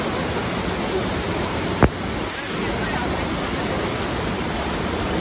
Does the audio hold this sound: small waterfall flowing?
yes